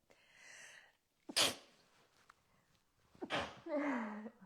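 A single sharp sneeze bursts out, then a second sneeze follows a couple of seconds later, with a brief voiced sound trailing after it.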